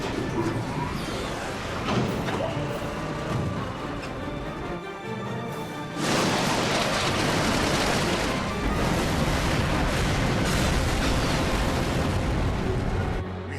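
Cannons fire a volley in Final Fantasy XII, a dense, roaring wall of booming blasts and rumble that swells louder midway and continues heavily throughout.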